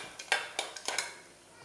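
A spoon stirs papaya payasam with jaggery in a pot, making a handful of light metallic clinks and scrapes, quiet and close, with no talking.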